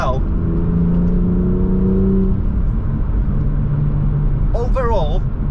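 A stationary car with a sport catalytic converter rumbles steadily close by, with a low drone and brief higher revving tones, a sharp exhaust-popping burst near the end.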